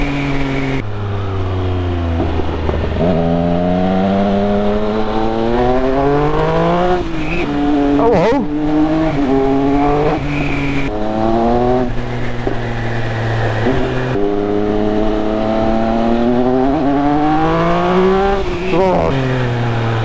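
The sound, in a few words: Triumph Speed Triple 1200 RS motorcycle engine riding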